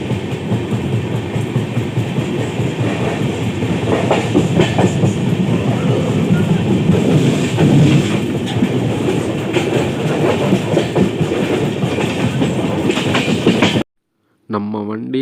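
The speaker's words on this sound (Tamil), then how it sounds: "நம்ம வண்டி அரக்கோணம் ஜங்ஷனுக்குள்ள என்டர் ஆயிடுச்சுங்க." Passenger train rolling into Arakkonam Junction on the Coimbatore to Chennai Central route: continuous loud rumble with rhythmic clickety-clack of wheels over rail joints, heard close from aboard, ending in a brief cut near the end.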